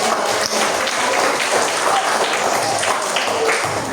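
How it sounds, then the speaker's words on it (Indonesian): Classroom of junior high students applauding together, a dense, steady patter of many hands clapping at once, loud and continuous throughout with no pause. "Oke, tepuk tangan."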